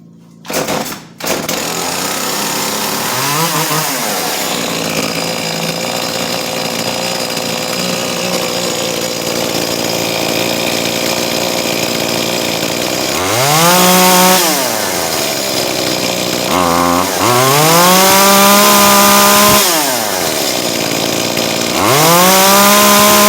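Chainsaw engine running loud and close, idling then revving up in several rising-and-falling bursts, with a sharp start at the beginning and sustained high whine between revs.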